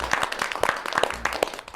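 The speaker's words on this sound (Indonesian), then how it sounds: "Tepuk tangan dong." Small roadside crowd clapping in a short, uneven burst, a handful of distinct hand claps close by with light murmuring behind.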